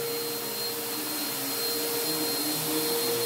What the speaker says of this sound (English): Okay, run the vacuum.